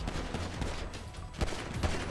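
Bursts of gunfire in a GTA role-play game, scattered shots and rapid volleys coming from a distance, fairly faint and crackling over a steady background, with sharper reports near the end and no talk.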